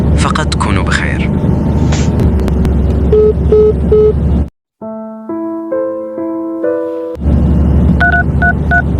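A telephone number being dialed on a keypad, with a quick run of touch-tone beeps, a brief silence, then a longer sequence of tones over background hum and scattered sounds.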